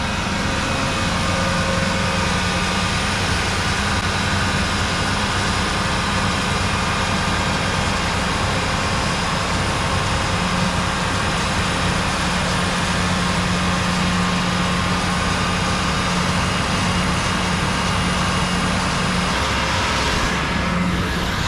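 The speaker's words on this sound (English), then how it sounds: "Oh, he's got the stump grinder." A stump grinder runs during tree removal outdoors, giving a loud, unbroken, grinding engine roar with a steady low drone that holds at full level throughout.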